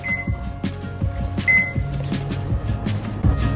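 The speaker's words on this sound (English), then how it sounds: "we'll preheat the oven in 180 degree" Oven being set to preheat at 180 degrees, a series of short electronic beeps and button presses with clicking, close and moderately loud.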